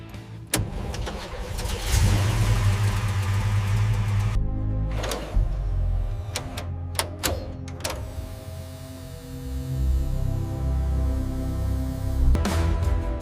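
A restored 1967 Shelby GT500 Mustang, metallic blue, cranks over and catches, then settles into a loud, lumpy V8 idle with a few sharp blips of the throttle, heard up close with no voices.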